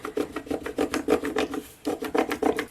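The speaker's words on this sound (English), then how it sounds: "And then let's use our scraper tool." A scraper tool rubs back and forth over transfer tape in a craft project, a quick run of close, rhythmic rasping strokes with a brief pause midway.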